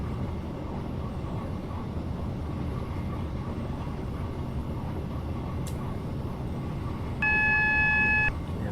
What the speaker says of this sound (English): we'll get an AWS to alert us very shortly to slow down train